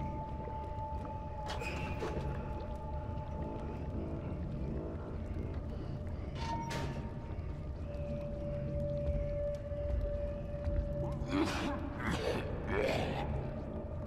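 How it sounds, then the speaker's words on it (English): A creature in the video game Little Nightmares snores and coughs in low, heavy, rasping bursts, with louder coughs near the end over a rumbling ambient drone and no talk. "Gosh, that cough."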